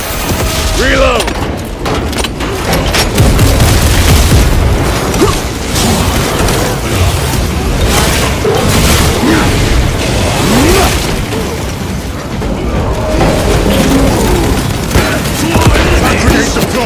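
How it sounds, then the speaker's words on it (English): A grenade goes off in the Space Marine II video game amid constant loud battle noise, heavy booms and gunfire layered thickly throughout with faint voices. "Grenade deployed."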